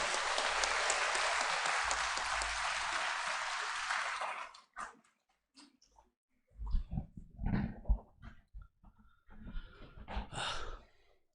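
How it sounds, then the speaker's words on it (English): An audience in a university law auditorium seminar in Chandigarh applauds an arriving speaker; dense clapping lasts about four seconds, then cuts off into quiet with scattered breaths and handling noises. "With a round of applause, please welcome Dr."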